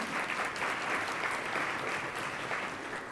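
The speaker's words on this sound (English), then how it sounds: "give her applause" An audience at a Columbus Metropolitan Club panel breaks into steady, sustained applause, a dense wash of clapping from a mid-sized crowd in a meeting room, lasting the whole stretch without pause.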